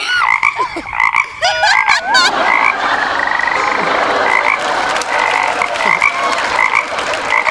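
Frogs croak in a loud, dense chorus at night. The calls come in a steady, overlapping pulse, and one warbling call stands out near the start.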